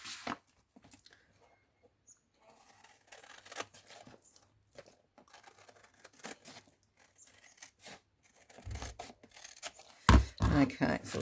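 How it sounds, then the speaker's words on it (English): Scissors cut through piano roll paper in a craft session, giving sparse crisp snips and rustling paper handling, quiet and close, with a louder flurry of cuts near the end. "Use the scissors."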